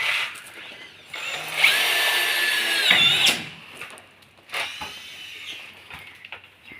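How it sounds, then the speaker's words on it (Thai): Power drill whirring in bursts as screws are driven into a steel fence frame for a wooden slat fence, with a long sustained run in the middle and shorter spins after, close and fairly loud. "แล้วก็ยิงน็อตนะครับสองตัวสองตัวน็อตยิงเหล็กนะครับ"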